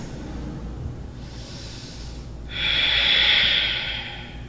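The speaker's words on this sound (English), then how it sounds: "Breathing deeply." Slow, deep breathing during a yoga shoulder flow, a soft inhale followed by a louder, hissing exhale close to the microphone, with no talking.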